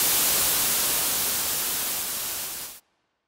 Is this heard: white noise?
yes